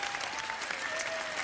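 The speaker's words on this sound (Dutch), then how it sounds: "het grootste applaus is natuurlijk voor onze kapsel" Sustained, even applause from a TV studio audience at a head-shaving show fills the whole short stretch, steady and full without a break.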